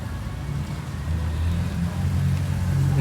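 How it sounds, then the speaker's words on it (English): A Mazda Miata pulling up at a car meet, its engine rumbling low and steady and growing slightly louder as it approaches. "Here's a really fancy Miata pulling up the rear."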